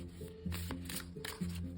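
An oracle card deck being shuffled in a quiet room, a soft papery riffling that swells and fades in short bursts over a faint steady tonal hum.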